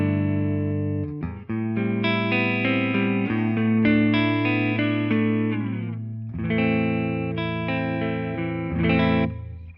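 Clean electric guitar played through a Quad Cortex using impulse responses, chords and single notes ringing out clearly with sustained tones, a brief pause, then another strummed phrase.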